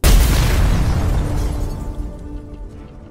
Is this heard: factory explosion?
yes